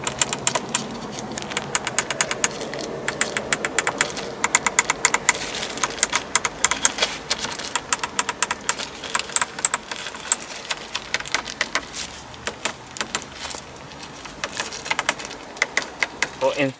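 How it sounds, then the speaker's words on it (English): Buttons clicked inside a 2021 Audi A3 Sportback 35 TFSI S Line, a close, dense string of crisp clicks and taps in an irregular rhythm, loud and spread over the whole stretch with no talking. "I can show you what an Audi button sounds like."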